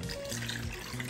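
Water poured into a pot of cooked tomatoes while making salsa for Michoacán-style morisqueta, a short steady splashing pour heard up close with faint background hum.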